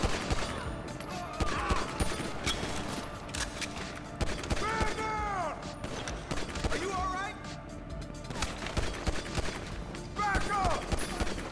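Rapid gunfire in a GTA Online heist crackles in bursts and volleys, with whistling, zipping effects and clattering impacts, loud and dense over a constant game background, while people talk over it.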